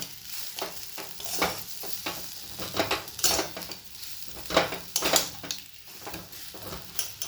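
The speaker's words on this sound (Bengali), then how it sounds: "এটাকে ভালো করে খুন্তি দিয়ে আমাকে নাড়াতে হবে" A spatula stirs mashed boiled potatoes with a little turmeric in a pan, giving repeated close scraping strokes with soft sizzling between them, each stroke about a second apart.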